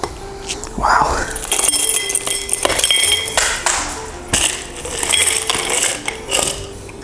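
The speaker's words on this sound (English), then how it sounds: "let's hit our glass with some ice" Ice cubes dropped into a glass for a margarita give several bright clinks and rattling glassy knocks, loud and close, scattered across the stretch with brief pauses between bursts.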